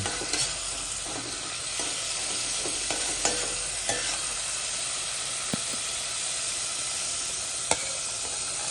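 Garlic sautés in butter in a pot for chicken macaroni soup, giving a steady, even hiss of frying with a few faint stirring clicks and knocks.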